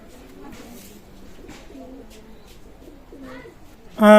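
Pakistani teddy pigeons cooing softly in low, rolling calls close by, ending in a sudden loud burst of sound.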